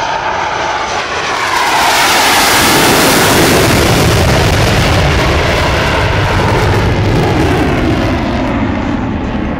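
Super Hornet jet with F414 turbofan engines roaring past at an air show, a loud, sustained, broadband blast that swells and stays intense, with a shifting whine as the aircraft passes close by.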